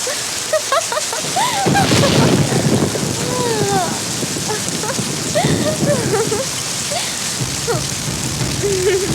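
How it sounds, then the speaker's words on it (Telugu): Steady heavy rain pours down in a loud, continuous hiss, with brief bird chirps scattered through it and a low rumble beneath. "హాయ్ వర్షం."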